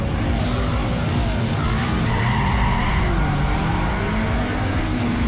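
A Honda S2000 races in Need for Speed Underground 2, a constant engine roar with tire noise and a skidding hiss, loud and unbroken throughout.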